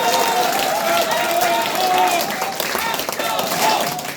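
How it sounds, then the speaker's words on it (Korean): Crowd at a Korean election rally for candidate Park Kyung-ho in Daedeok chanting the candidate's name: loud, dense massed voices in rhythmic unison, mixed with clapping throughout. "자, 연호는 자제해 주세요."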